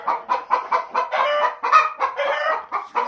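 Wyandotte chickens cluck nearby in a yard, giving a string of short, rhythmic calls that swell into a louder burst partway through, with no voices.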